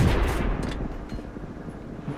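Tank cannon firing rapidly in a tank parkour video game, a loud burst of heavy shots at the start that settles into a dense, rumbling run of gunfire and battle noise.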